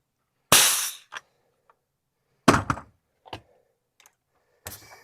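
A pneumatic nail gun, powered by a Husky 27-gallon 2HP compressor tank, drives 3.5-inch nails into pressure-treated wood with three sharp, close bangs spaced a couple of seconds apart. Each bang is followed by a smaller clack.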